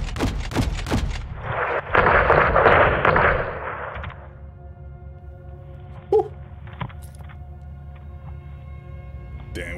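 Missile strikes and gunfire in the video game Call of Duty: Modern Warfare 2, with several sharp booming blasts early on, a loud rumbling roar of explosion, then a quieter hum with a few scattered distant thuds.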